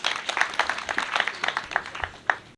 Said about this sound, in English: We could clap for ourselves.